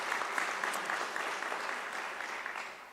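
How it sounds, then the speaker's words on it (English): A round of applause from the audience at a teaching and learning conference, a steady, even patter of many hands clapping, moderately distant and slowly tapering toward the end. "I think we need to give her a round of applause."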